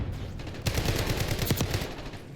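A sniper rifle shot in Black Ops 6, a sharp loud report standing out over a dense bed of continuous game gunfire and battle noise.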